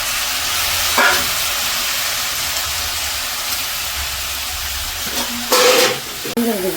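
Finely chopped tomatoes go into a hot pan for home cooking, a steady loud sizzle and hiss running throughout, with brief clatters of a utensil against the pan.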